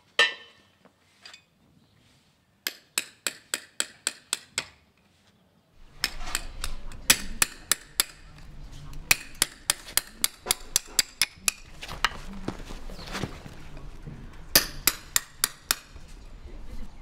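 Sharp metallic hammer strikes ring out as a farrier nails a horseshoe in place, in quick bursts of repeated blows separated by short pauses, close and loud.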